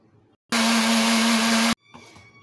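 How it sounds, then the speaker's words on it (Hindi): A blender whirs loudly for just over a second, blending mango puree with a steady high-pitched motor drone, then cuts off abruptly. "और एक मिनट के लिए इनको ब्लेंड करेंगे"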